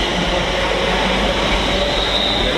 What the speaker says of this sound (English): Okay, next up is another London North Western Railway service.